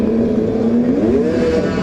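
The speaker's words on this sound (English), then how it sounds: "They are revving." Snowmobile engines rev loudly and steadily at a drag race, a dense close roar with a pitch that climbs and wavers throughout.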